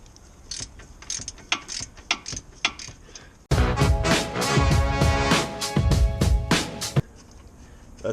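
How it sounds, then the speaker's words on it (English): A ratchet wrench works a control arm bolt on a Jeep Cherokee KL: quiet clicks and handling noise at first, then several seconds of loud, fast, continuous ratcheting up close before it drops back to faint clatter. "I'm gonna use a wrench to get up in there."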